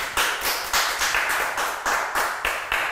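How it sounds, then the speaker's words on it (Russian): Audience clapping in unison on a talk show, loud and close, a regular rhythmic beat of sharp claps at a steady pace. "Друзья, аплодисменты."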